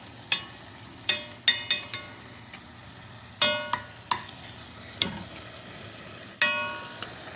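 Crushed tomatoes worked into browned meat in a pan for moussaka: a soft steady sizzle broken by sharp, scattered scrapes and clinks of a utensil against the pan.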